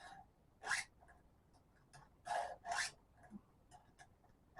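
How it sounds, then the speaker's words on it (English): Chainsaw chain being sharpened with a hand file at a workbench indoors, a few separate rasping strokes with pauses between them, close and fairly quiet. "that's sharpening a blade"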